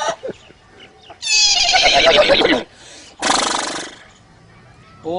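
A man imitates a horse neighing, giving two loud, close whinnies, a long quavering one followed after a short pause by a shorter one.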